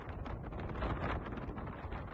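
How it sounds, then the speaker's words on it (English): Constant wind buffets the microphone outdoors at an RSPB reserve, a loud continuous rumbling roar that swells and eases slightly with no other clear sound. "it's just constant wind"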